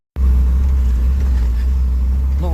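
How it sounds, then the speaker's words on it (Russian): Inside a moving UAZ Bukhanka van, a loud, constant low engine drone and road rumble set in abruptly and hold steady to the end, with no voices. "Хотел прокатиться на буханке. Ну и вот, собственно, сейчас мы на ней и едем"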